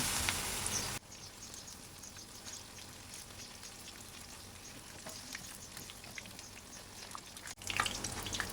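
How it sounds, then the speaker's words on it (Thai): Battered banana blossom deep-frying in hot oil, a dense, even sizzle and crackle that runs steadily throughout at moderate volume, with a brief louder burst near the end. No one speaks. "ทอดไปเรื่อยๆ จนกว่าหัวปีจะหมดค่ะ ชุบแป้งทอดเยอะๆ เลยค่ะ จะได้กรอบอร่อย"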